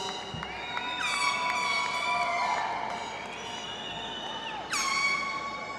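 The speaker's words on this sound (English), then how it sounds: "Anybody got air horns or cowbells?" Air horns blare in long sustained overlapping blasts from a commencement ceremony audience, with a fresh horn blast cutting in near the end over a murmuring crowd.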